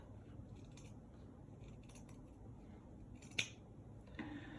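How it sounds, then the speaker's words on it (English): Scissors snip the toes off a sock, heard as a few faint, close cuts over a quiet, hissy room, with one sharper snip standing out. "I'm gonna cut off the toes, just like this"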